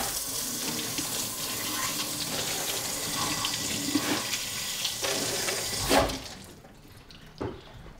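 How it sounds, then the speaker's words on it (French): Tap water runs steadily into a drinking glass for about six seconds, then cuts off, followed by a faint drip and a small clink near the end. "Tu veux un verre d'eau, Louis?"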